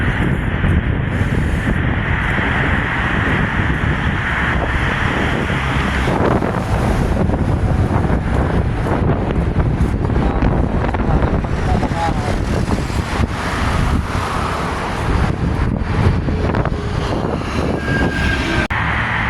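Loud, constant wind buffets the microphone with a roaring rumble that never lets up, drowning out any other sounds.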